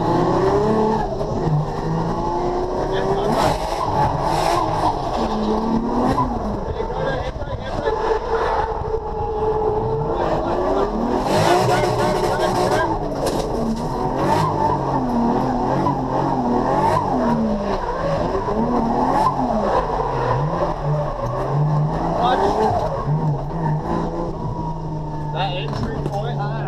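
A 1JZ-swapped drift car on a track during a competition qualifying run, its engine revving hard and shifting pitch through a gear while tires skid and squeal, loud and continuous, with voices talking over it.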